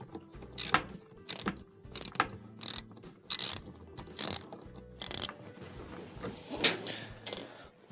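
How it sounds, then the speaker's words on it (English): Socket ratchet clicking in short repeated bursts while tightening a bolt during a GE washer door boot repair, close and fairly loud with brief pauses between strokes. "So I'm going to hold my socket and just start tightening it with that."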